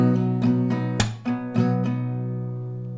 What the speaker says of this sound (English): So it's first down, up, then comes the clap, and then up, down, up